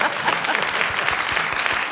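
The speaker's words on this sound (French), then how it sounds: "On peut l'applaudir, effectivement." Brief burst of audience applause at a comedy show, dense clapping from a crowd that stays steady throughout.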